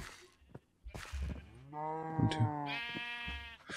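A Minecraft cow in the Sky Factory modpack gives a long, clear moo with rich harmonics, rising and holding for well over a second, with brief clicks and thumps from gameplay before it.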